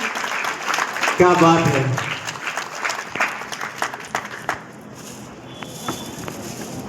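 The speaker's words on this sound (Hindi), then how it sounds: "एक बार बहुत जोरदार ताली के साथ हम मंच का स्वागत करें" Audience applause at a school award ceremony at Good Shepherd Public School, Ratangarh, a moderate crowd clapping beneath a speaker's voice, tapering off partway through.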